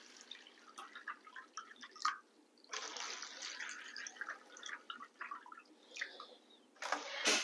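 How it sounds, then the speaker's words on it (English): Water poured from a container into seed-starting trays, filling each one about halfway with soil nearby, in a series of close splashing pours and trickles with brief pauses between them. "I just pour water into each container about halfway"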